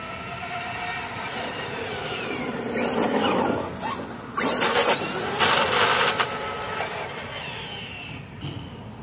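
A Traxxas Stampede 4x4 VXL RC truck makes passes, its electric motor whining and rising as it speeds by, with loud surges in the middle and steady background noise throughout.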